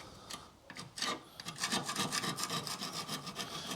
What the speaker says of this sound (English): I've got an old file. I'm not looking to take any thickness off the metal, but I just find that it's good for removing surface rust and muck